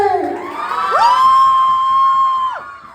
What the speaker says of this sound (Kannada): ಒಂದ್ಸರಿ ಬರ್ಲಿ ಜೋರಾದ ಚಪ್ಪಾಳೆ.